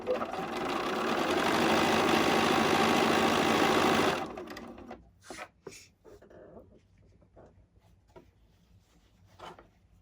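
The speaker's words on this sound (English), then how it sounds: "Now I'm only sewing 5 because I have already sewn 2 of these blocks together" A sewing machine stitching quilt blocks together runs in a fast, steady hum for about four seconds, then stops, followed by scattered light handling noises.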